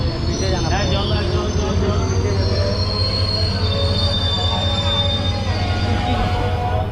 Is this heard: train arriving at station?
yes